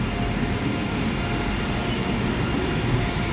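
A train engine pulls away from a station platform, a loud, steady rumble of rolling wheels and machinery that holds constant from start to finish with no voices.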